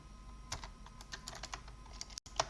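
Typing on a computer keyboard while entering a Linux terminal command in ArcoLinux with the dwm window manager: a quick irregular run of light, crisp key clicks, close up, with a brief silent gap before a final keystroke.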